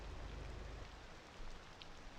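Steady rainfall in the city-building game Cities Skylines 2, a dense, even hiss of drops on surfaces, soft and continuous throughout with no voices.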